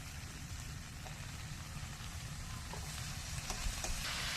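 Malabar spinach goes into a pan of spices frying in oil, giving a steady, fairly quiet sizzle with a low rumble and a few light clicks, slightly swelling toward the end.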